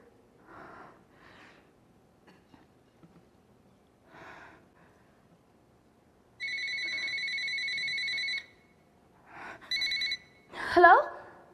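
A cell phone rings during a stage play, its electronic ringtone sounding in bursts after scattered faint noises, followed by a sharper louder blip near the end.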